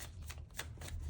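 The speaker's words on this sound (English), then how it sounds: "let's get some tarot cards out for this past situation" Tarot cards being drawn and shuffled by hand during a reading, a soft papery riffle of several quick rustling bursts that are close and fairly quiet over a low background hum.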